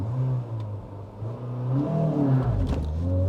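Toyota Corolla 1.8 TSport engine revving while stopped, a steady droning idle climbing into a rising, harmonic-rich rev that swells near the end, loud and close with no talk.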